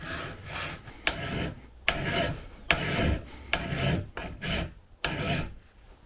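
A cross-cut file rasps across the metal gear teeth of a Nissan Leaf gearbox, with about seven firm, rhythmic strokes in both directions separated by short pauses, close and clear.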